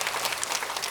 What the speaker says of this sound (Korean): 우리 격려와 축복과 사랑의 박수 한번 해주시면 좋겠습니다